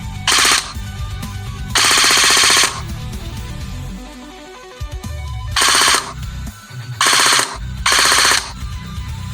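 CYMA metal M16A4 gel blaster upgraded with a Solink 31k brushless motor on a 7-volt battery, firing loud rapid full-auto bursts in several short strings with brief mechanical whirring between them, close up.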